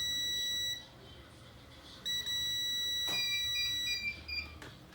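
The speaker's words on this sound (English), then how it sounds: "this beeping means that we successfully jump this fuse" Continuity beeps from a multimeter in diode mode, tested across a jumped fuse on a Lenovo Yoga 11E laptop board during a backlight repair: a steady high tone, then a gap, then two more stretches of beeping, close and clear.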